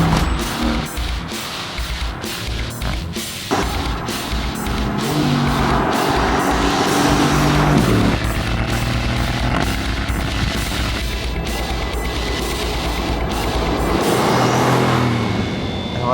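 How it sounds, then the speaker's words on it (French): A Mercedes-AMG GT S with a 4-litre V8 cruises on the motorway at about 130 km/h, with a steady loud roar of engine and tyre noise that swells gently and holds throughout, and no talking. "la GT est assez silencieuse même si on entend bien le bruit des pneus à 130 à l'heure"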